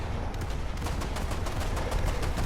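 Rapid naval gunfire in War Thunder's naval realistic battles, a dense stream of shots cracking over a constant low engine rumble, steady and loud with no voices.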